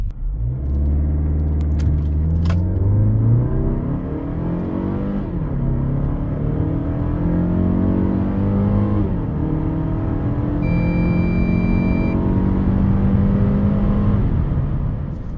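A Mazda CX-5 with the 2.5 SKYACTIV-G petrol engine accelerates hard from standstill to 100 km/h, its engine droning and climbing through several gear changes, heard steadily from inside the car.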